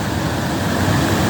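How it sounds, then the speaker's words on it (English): Water pours steadily over a small dam-like waterfall down the street on a former mill site, a continuous broad rushing roar heard close with no break. "This is the little dam right by my, or waterfall actually, right down the street from my house."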